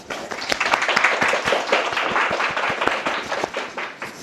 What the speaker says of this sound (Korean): 우리 박성훈 선생님께 박수 보내드리도록 하겠습니다